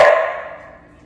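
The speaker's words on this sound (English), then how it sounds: "so she's barking in the background" A single loud, close dog bark that rings out and fades over about a second, heard in a home kitchen.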